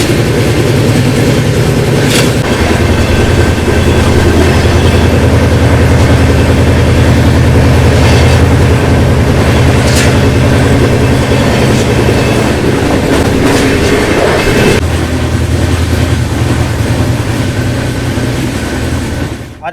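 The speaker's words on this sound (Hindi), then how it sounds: "अब हम लोग एंटर कर रहे हैं सरायगढ़ जंक्शन रेलवे स्टेशन पे।" The 15509 Lalitgram Saharsa Rajyarani Express pulls into Saraigarh Junction railway station, recorded from inside an AC coach. The rumble and clatter of the wheels are loud and continuous, with a few sharp knocks and no speech.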